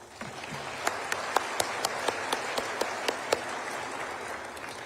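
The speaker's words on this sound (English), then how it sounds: "Let's give them a round of applause." Applause from a small crowd at a city State of the City address in Riverside, with some sharp individual claps standing out in a steady rhythm over the continuous clapping.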